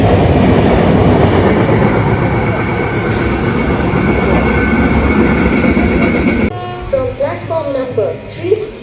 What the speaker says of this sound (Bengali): সরাইঘাট এক্সপ্রেস হাওড়া গৌহাটি সরাইঘাট 31শে ডিসেম্বরের জন্য স্পেশাল